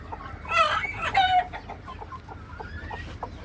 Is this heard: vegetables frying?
no